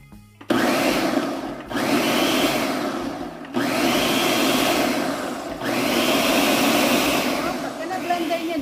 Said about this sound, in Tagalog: So, kailangan ko siya talagang i-blender.